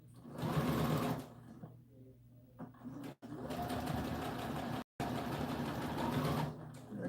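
Sewing machine running a seam on an American Girl doll dress, steady fast whirring stitches in long runs broken by short stops, close and clear.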